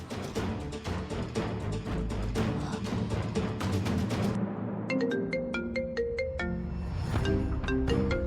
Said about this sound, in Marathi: अननोन नंबरवरून कॉल.